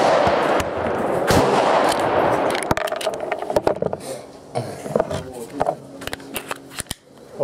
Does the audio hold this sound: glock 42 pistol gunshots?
yes